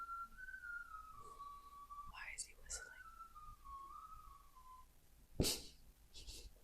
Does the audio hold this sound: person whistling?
yes